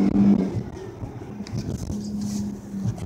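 A 2019 Dodge Charger GT engine hums steadily at low pitch and swells slightly as the driver moves through the gears, with no voices over it.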